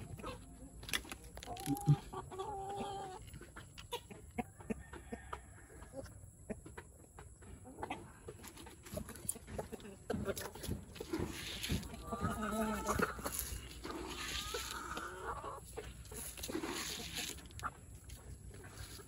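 Free-range Black Australorp and Black Copper hens cluck and murmur at low level in an outdoor yard, scattered calls rising through the stretch while a person talks intermittently over them.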